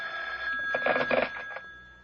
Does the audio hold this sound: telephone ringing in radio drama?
yes